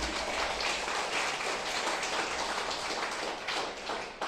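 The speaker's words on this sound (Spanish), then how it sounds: "Un aplauso, amado." Congregation applause at a Shabbat service, a dense, steady wash of many hands clapping at once that stays loud throughout.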